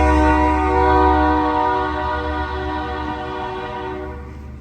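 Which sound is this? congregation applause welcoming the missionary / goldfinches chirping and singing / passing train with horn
passing train with horn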